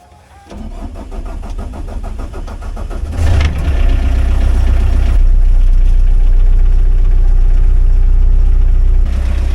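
A Pel Job LS2000 excavator's heavy diesel engine cranks briefly, then catches and roars to life, settling into a loud, steady rumbling idle close by.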